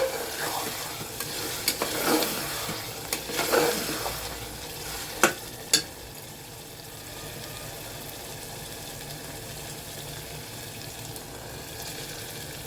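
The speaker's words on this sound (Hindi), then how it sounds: "बेसन डाल के हम इसको चलाते जाएंगे, भूनते जाएंगे" Boti kabab meat and roasted gram flour are stirred in a pan, a steady sizzle with scraping stirs and a couple of sharp spoon clinks near the middle, then a quieter continuous fry.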